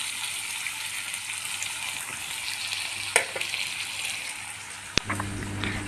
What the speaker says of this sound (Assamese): আম টেঙাকেইডোখৰ অকণমান তেলত ভাজি ল'ম